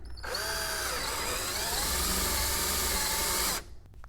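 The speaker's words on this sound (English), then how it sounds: "simply going to drill a hole for a 1/2 inch bulkhead fitting." A power drill bores a hole in a tank for a half-inch bulkhead fitting, a loud continuous whine starting abruptly after a brief pause and running steadily for over three seconds before cutting off, alone without talk.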